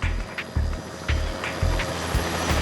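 A helicopter carrying a thermal imaging system flies overhead during a manhunt, its rotor thumping in a steady low pulse beneath a faint, continuous engine drone.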